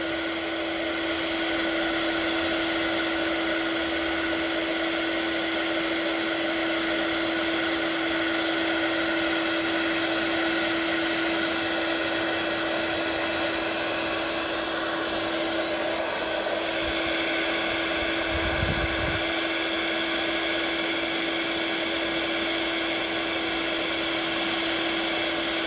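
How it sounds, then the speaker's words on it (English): A heat gun blowing continuously to melt embossing powder on card, a steady loud whirring hiss with a fixed motor whine that runs unbroken throughout, with a brief low thump partway through. "My heat gun's a little bit cold, so it's taking a little bit longer"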